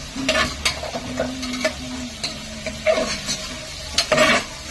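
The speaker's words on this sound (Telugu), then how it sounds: "ఇది మంచిగా ఆయిల్లో కుక్ చేయాలి." Carrot pieces stirred and frying in hot oil in a pot, with a steady sizzle broken by repeated scraping strokes of a spoon at close range.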